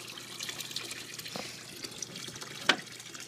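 Water trickling steadily into an aquaponics grow bed as it fills before a bell siphon drain cycle, a soft continuous flow with faint drips and one sharper splash near the end.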